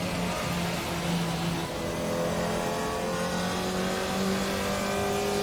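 A steady, droning Mini Cooper race car engine in Assetto Corsa EVO holds a sustained hum with slowly rising pitch, continuous and fairly loud throughout, like a race car cruising along.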